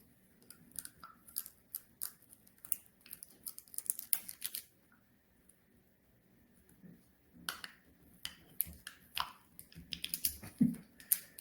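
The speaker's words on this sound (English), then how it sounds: "together, we will peel back the foil and consume the grape juice" Foil lid being peeled back from a prefilled communion cup of grape juice, a close series of small crinkling, crackling bursts with short quiet gaps between them.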